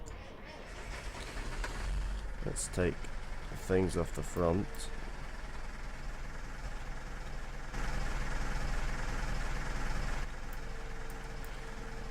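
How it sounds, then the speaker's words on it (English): A tractor engine in the Farming Simulator 15 video game starts and settles into a steady low idle, heard under someone talking. "let's get this tractor fired up"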